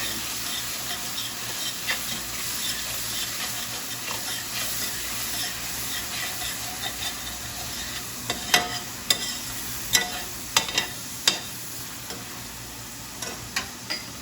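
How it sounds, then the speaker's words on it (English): A spoon scrapes and stirs across the bottom of a pan after beef has been seared, soft sizzling underneath and several sharper scraping clicks toward the end; close, no talking. "We're getting all that good stuff that the beef has left behind"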